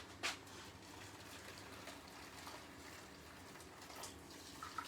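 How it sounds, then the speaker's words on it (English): Water is poured into a cooking pan for a braised steak stew with carrots and parsnips, a faint, steady splashing stream lasting several seconds with a few small splashes. "I'm just adding this water first of all to the pan."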